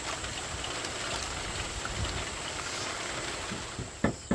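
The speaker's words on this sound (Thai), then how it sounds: "ฝนตกแล้ว" Steady rain hisses down as a dense, even wash of sound, with a couple of louder knocks and splashes near the end.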